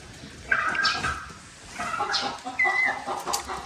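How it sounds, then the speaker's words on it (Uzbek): Chickens and a rooster cluck nearby in a farmyard, with a few sharper squawks and a brief high call breaking through the steady clucking, moderately loud and close. "Bular zo'r jo'jalar"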